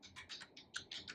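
A computer keyboard clicks through a quick run of about eight sharp, close keystrokes, ending with the Enter key, each tap distinct and crisp against a quiet background.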